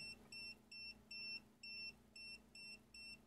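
A voltage tester (MT8134) beeps in a steady series of about eight short, high-pitched pulses, evenly spaced, over a faint low hum, beeping more as the signal near a live phase wire grows stronger.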